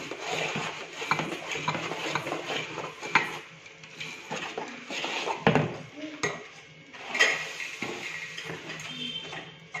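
Puffed rice is stirred into sticky jaggery syrup in a pot, with scraping and clinking of a spoon against metal and dry crunchy rustling in irregular bursts, close and fairly loud.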